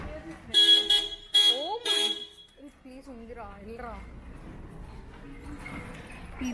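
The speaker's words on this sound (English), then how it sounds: "People honk so much in Kolkata." Car horns honk in Kolkata street traffic, with several loud toots in quick succession followed by people talking over the busy street.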